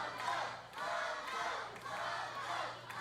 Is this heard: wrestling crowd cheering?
yes